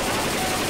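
Gunfire in the zombie shooter Left 4 Dead 2, a dense, steady burst of rapid automatic shots filling the whole moment at close range, loud and with no talk over it.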